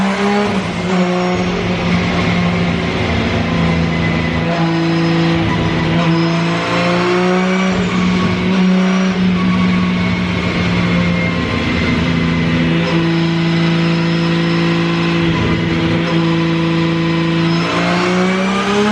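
A 750 hp BMW 335i with a Garrett turbo revs hard up close, its loud, sustained engine note rising and holding with a turbo whine over it, and no voices heard.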